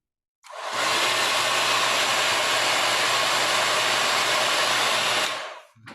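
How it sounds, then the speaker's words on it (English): An iTeraCare device runs on its high fan, high heat setting, giving a loud, steady blowing whoosh like a hair dryer that starts abruptly, holds constant for about five seconds, then cuts off. "And then the third one is high fan, high heat."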